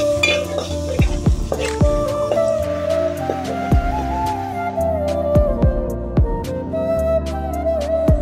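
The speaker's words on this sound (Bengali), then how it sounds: "রসুন বাটাটা আমি ভালো করে একটু বাদামি কালার করে ভেজে নেব।" Garlic paste fries in hot oil in a pot, a soft sizzle under repeated metallic clanks and scrapes of a spoon stirring against the pot, close and steady.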